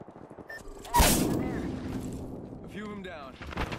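Frag grenade explosion in the Apex Legends video game, a single loud burst that decays over a few seconds amid gunfire-like game effects, with a player talking over the action.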